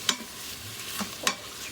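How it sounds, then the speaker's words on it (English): Mushrooms sauté in an Instant Pot with a soft, constant sizzle, broken by a few quick stirring scrapes close by, with no talking. "you're just gonna wanna swirl it around and saute it for a little bit"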